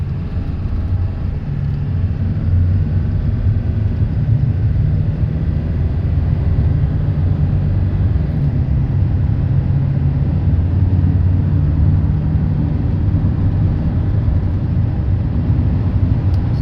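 1997 Ford F-250 with a 7.3L Powerstroke diesel accelerating hard from a stop, a loud continuous low drone heard from inside the cab, steady throughout.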